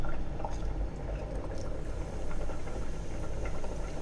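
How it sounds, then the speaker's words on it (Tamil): A pot of Tamil drumstick-leaf and lentil stew (murungai keerai kootu) simmers with a steady low bubbling and burbling, continuous and fairly close, with no one talking. "நல்லா ஒரு நிமிஷமாக இந்த கீரை கூட்டு கொதிச்சிட்ருக்கு."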